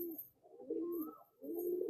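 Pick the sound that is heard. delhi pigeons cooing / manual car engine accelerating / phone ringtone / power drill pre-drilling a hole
delhi pigeons cooing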